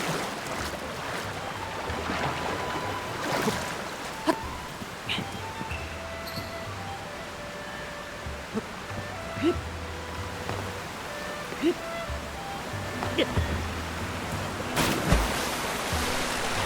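Rushing waterfall in the video game Zelda Tears of the Kingdom, a steady broadband wash of falling water with scattered game effects and someone talking over it at times.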